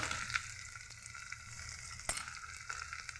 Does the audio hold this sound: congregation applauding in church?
no